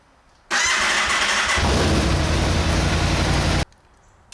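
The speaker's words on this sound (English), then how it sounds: "I'm going to turn the bike on and let it run for a little bit" A 2019 Aprilia RSV4 1100 Factory motorcycle fires up and runs for about three seconds with a loud, steady, rough engine roar, then cuts off abruptly into near silence.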